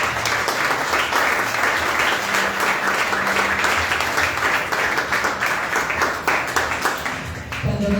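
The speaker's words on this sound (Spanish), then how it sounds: "Denle un fuerte aplauso al Señor." A church congregation breaks into strong, sustained applause during a worship service, dense steady clapping filling the room for several seconds before easing off at the end.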